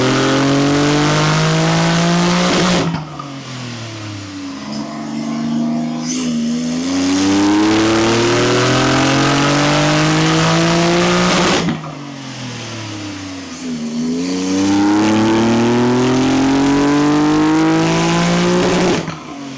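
A Porsche 992 Turbo S with an ES700 conversion revs hard on a dyno, climbing through the gears in two long loud pulls, each cut off sharply before dropping back and building again.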